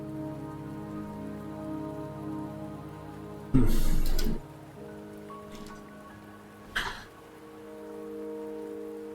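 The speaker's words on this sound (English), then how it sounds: "Don't worry, the rain won't last much longer." Steady rain falls in the game Wuthering Waves, a soft continuous patter under a low musical drone, with two brief louder bursts of noise partway through.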